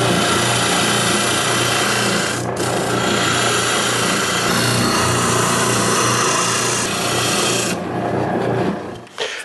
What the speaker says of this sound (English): Now I'm going to use my oscillating sander to clean up these quarter circles.